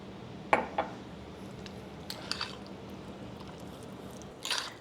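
A few ingredients get stirred in a bowl with a little hot water, giving faint scattered clinks and soft wet squishes against a quiet background.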